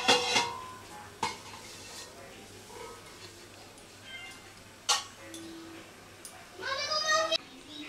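A metal lid is set onto a cooking pot while making a Bengali elephant-foot yam dish, with several sharp clanks and clattering of cookware, and a cat meowing nearby.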